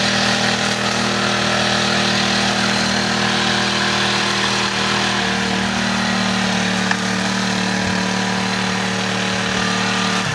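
A small grass cutter engine drones steadily and loudly, with a constant buzzing hum and no talking.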